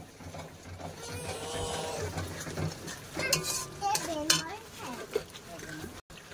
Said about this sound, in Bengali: দিয়ে ভালো করে কষে নেবো, যতক্ষণ না তেল ছাড়ে ততক্ষণ খুব ভালো করে কষে নেবো